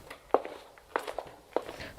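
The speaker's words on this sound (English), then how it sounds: "The footsteps are getting closer." Three distinct footsteps thud at an even pace, fairly quiet against a low background hush.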